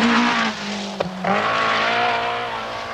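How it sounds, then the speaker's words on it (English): A works Chrysler Sunbeam rally car is pushed hard on a 1979 Scottish Rally stage, its engine roaring loudly and steadily with a brief sharp knock midway, close and continuous with no voices. "Tony Pond, 68 seconds behind Toivonen in the Chrysler Sunbeam Works car, and he's really forcing it"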